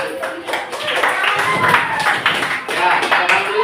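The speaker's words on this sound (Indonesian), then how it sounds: "Oke, beri tepuk tangan." A class of students claps on a teacher's cue during a lesson, uneven rapid hand claps mixed with tapping and chatter, fairly close and moderately loud.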